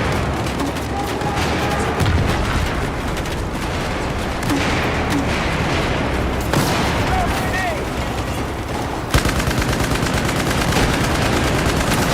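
Dense Battlefield 4 multiplayer gunfire with rapid automatic bursts and scattered shots running almost continuously at fairly loud level, with some talk mixed in.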